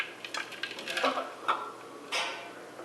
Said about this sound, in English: we will now add the walnuts, and again, these will have to roast for another 3 minutes